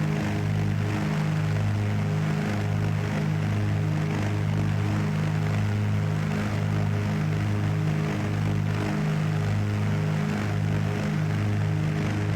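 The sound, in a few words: Carenado PA44 Seminole aircraft engines, flight simulator video game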